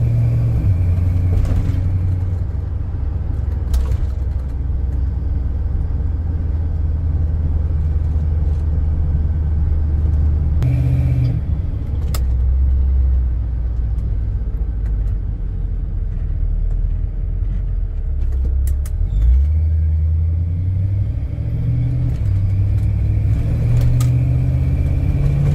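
A 1991 Chevrolet C/K pickup drives along with a steady low engine rumble, the pitch dipping and rising through several smooth gear shifts, heard close and continuous from inside the cab with no talking.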